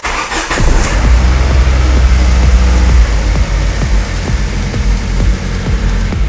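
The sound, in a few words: Ford Focus Mk1 engine idling after ignition coil replacement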